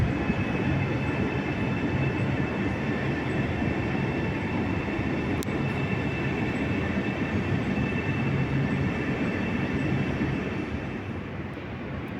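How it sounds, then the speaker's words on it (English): A regional train at Padova station rumbles steadily and loudly for the whole stretch, with a constant hum and faint wheel noise, easing slightly toward the end. "The 1749 Regional Train 2, Venezia Mestre, is departing from Platform 32."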